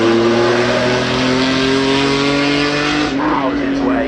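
A car driving past the commentary box at the Goodwood Festival of Speed, a loud steady engine drone close by that holds throughout, with a voice talking over it.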